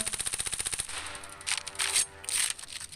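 Rapid automatic gunfire from the mobile shooter Standoff 2, a fast even burst of shots followed by a few louder separate bangs, fairly close and alone without talk.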